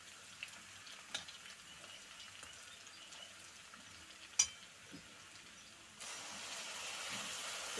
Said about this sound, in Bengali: এবার আমি লটে শুটকিটা দিয়ে দেব। তো এটা আবারও কিছুক্ষণ ভেজে নিয়ে তারপর মশলাটা দেব।